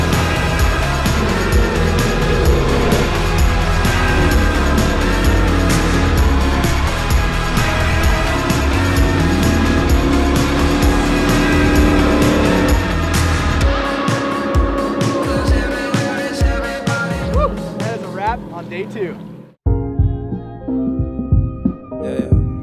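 Race truck at Lake Havasu, its engine roaring loudly and revving hard with tire noise as it drives and jumps, the sound thinning to sparse bursts and a brief drop near the end.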